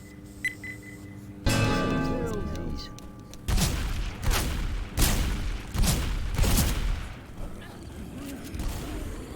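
Rapid automatic Uzi bursts in the zombie shooter Dead Before Dawn, several loud clustered volleys with sharp booms during a competitive match, mixed with other game effects and faint background voices.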